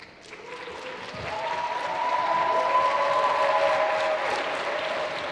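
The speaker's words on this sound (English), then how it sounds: "I think this applause should be given to you" Sustained applause from an event audience welcoming a speaker to the stage at a startup gathering, building over the first couple of seconds and then holding steady, with a faint tonal hum underneath.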